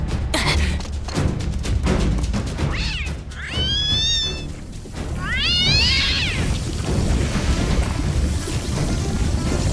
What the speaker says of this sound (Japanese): 猫の声。